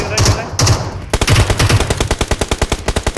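Gunfire in the game Metro Royale: a few short separate shots, then a rapid automatic burst of evenly spaced cracks. The shots are close and loud, with no speech.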